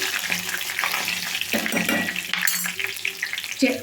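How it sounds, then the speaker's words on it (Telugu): Garlic, dried red chillies and asafoetida crackle and sizzle in hot oil for tempering an onion chutney, with bubbling pops and a few stirring clatters close by. "చూడండి తాలింపు అయితే వేగాలి"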